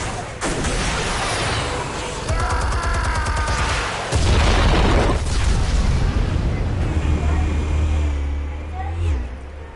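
Heavy blasts erupt in a Batman video game as armed explosives go off, with a loud broadband boom near four seconds followed by sustained low rumbling and debris, layered over game effects.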